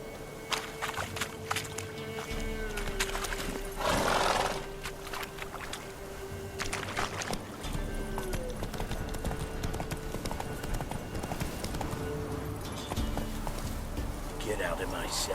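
Roach, the horse in The Witcher 3, galloping with steady, close hoofbeats in a continuous clip-clop rhythm, alongside game music and other in-game sounds.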